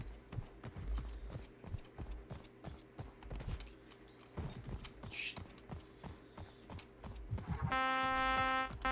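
Rhythmic hoof clip-clops of a horse moving at a steady pace in the video game Knightfall, with game-like ambient tones and a bright chiming jingle near the end.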